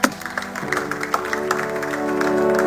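A church congregation applauding and acclaiming God, a burst of clapping with scattered sharp claps rising into a fuller sustained swell of voices and music.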